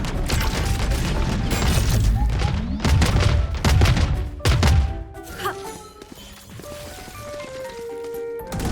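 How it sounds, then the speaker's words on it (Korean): Missile barrage in the game Valorant: a dense run of loud booming blasts and crackling explosions through the first five seconds, then the barrage drops away to lighter mechanical clanks and thuds. "모든 미사일 발사."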